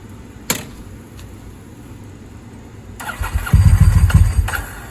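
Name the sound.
Ducati 748 motorcycle engine starting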